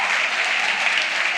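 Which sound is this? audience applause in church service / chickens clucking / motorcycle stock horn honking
audience applause in church service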